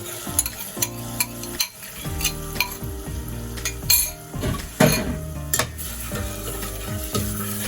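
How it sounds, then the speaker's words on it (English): Egusi being stirred in a pot on the stove, a spoon scraping and clinking against the pot in repeated strokes over a low steady sizzle, close and without talk. "Stir your egusi very well."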